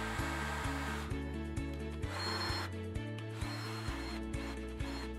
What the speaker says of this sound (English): After everything was screwed up, we could finally test the drill.